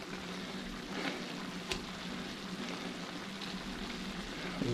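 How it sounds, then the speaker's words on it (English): Hawaiian-style baby back ribs sizzle and bubble steadily in a pot, with a few soft scrapes and knocks of a stirring spoon over the constant frying hiss. "I'll stir that up a little bit."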